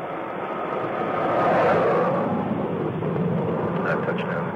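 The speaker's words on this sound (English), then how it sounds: "That touchdown at 190 knots." Space Shuttle STS-41B touches down and rolls out on the Kennedy Space Center runway, a loud broad roar that swells and then holds steady as it rolls, with a voice talking over it.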